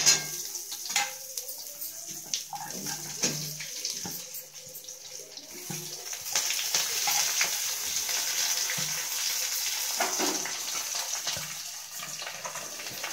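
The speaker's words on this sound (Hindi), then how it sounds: "इस तरह से सभी सब्जियों को डाल के अच्छी तरह से भून लेते हैं ताकि ये लाल हो जाए" Vegetables, added to browned onions, fry in a pan, giving a continuous sizzling hiss with intermittent clatters and stirring knocks, close and moderately loud, with no talking.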